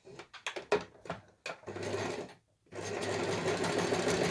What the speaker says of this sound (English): So you want to set your machine to zigzag.